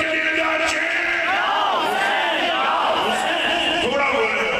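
Large religious gathering shouting in unison as a crowd answers the Naara-e-Haidari slogan, a dense, loud roar of massed voices with rising and falling chanted swells throughout.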